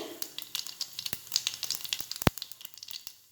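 Mustard seeds and cumin sizzle in hot oil in a pan, with a crackling hiss and scattered sharp pops from the seeds, plus one louder click partway through.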